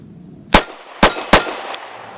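Pistol shots from a Sig P365 fitted with an Aim Surplus JTT barrel ring off steel targets outdoors in the cold, three sharp loud cracks with metallic clangs in quick succession, then a fainter ping, with no talking.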